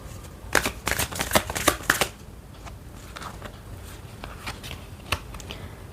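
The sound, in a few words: shuffling Beast Soul Oracle cards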